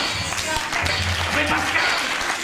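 A crowd at a Holi event in a Hindu temple claps for a few seconds, a dense and fairly loud burst of applause with voices and a low hum beneath it.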